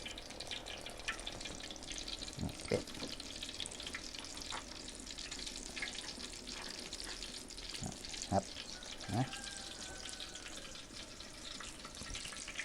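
Catfish frying in a pan with plenty of chilli, a low steady sizzle with faint clinks and occasional louder spatters, heard close and without talking.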